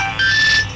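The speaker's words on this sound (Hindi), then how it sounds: "सोनू भैया किसका फोन है?" A short electronic phone ringtone chirps once, a bright tonal burst lasting under a second, close and clear.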